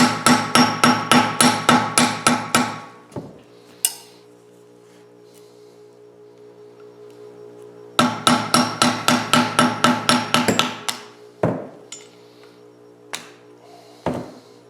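A chisel hammered under a suspension cap on a Triumph TR7 rings out in two rapid runs of sharp metallic taps. Each run is followed by a few isolated heavier knocks and ringing pauses.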